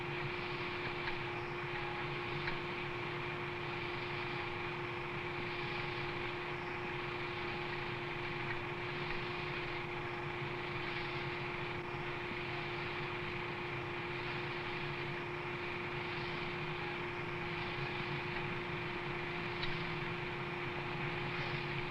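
Inside an XV-15 tiltrotor aircraft slowly converting forward to airplane mode after takeoff, a continuous heavy engine and rotor drone with a faint regular pulsing in the upper hiss.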